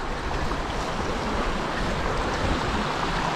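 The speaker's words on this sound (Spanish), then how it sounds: "acá está el arroyo que nace en la última escalonada" A mountain stream flowing out of the largest of the stepped lagoons near Ushuaia, a steady broadband rush of water held at an even, moderately loud level with no voices.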